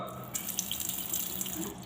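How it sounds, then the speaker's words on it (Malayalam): A kitchen tap runs steadily into a washbasin with salt in it, a soft continuous splashing stream with slight fluctuations, quiet and close with no talking. "കുറച്ച് ഉപ്പ് എടുത്തിട്ട് നിങ്ങളിങ്ങനെ ഇട്ട് കൊടുക്കുക അതിനുശേഷം കുറച്ച് വെള്ളം"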